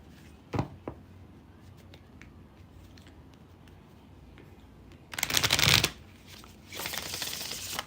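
Two short bursts of tarot cards being shuffled, one brief riffle early on, then a longer louder shuffle and a rustling tail, with quiet room noise between.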